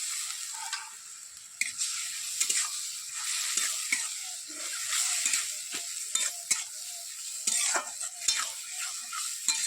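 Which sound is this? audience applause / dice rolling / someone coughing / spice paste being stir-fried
spice paste being stir-fried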